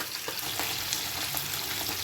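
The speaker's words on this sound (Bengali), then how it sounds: "মাছগুলো ভাজা হোক" Pabda fish crackle in a pan of hot oil; a dense, even sizzle runs throughout, with frequent light pops, close and steady.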